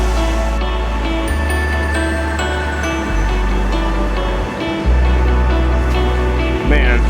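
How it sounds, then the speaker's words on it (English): A small but loud waterfall beside a hiking trail on the Mt. Sterling loop roars in a steady, close wash of falling water, with gusts of wind buffeting the microphone throughout and no voices. "Beautiful little waterfall. Super loud, you can feel the wind and rain coming off of it."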